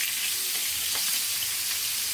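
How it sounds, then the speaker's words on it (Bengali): Fish shallow-frying in soybean oil in a pan gives a steady, close sizzle and crackle that continues evenly throughout with no talking. "এবার একটা প্যানে আমি সয়াবিন তেল দিয়ে মাছটা হালকা করে ভেজে নিব।"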